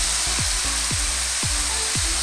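Malabar spinach (pui saag) hits a hot pan for a restaurant-style pui saag with hilsa fish head, giving a loud, steady sizzle with a few low swooping tones that recur at regular intervals.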